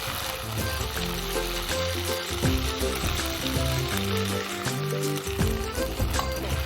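Gravy sizzles and bubbles loudly in a pan on a Bengali cooking show, a dense continuous frying roar with watery splashing as liquid goes in, no voices.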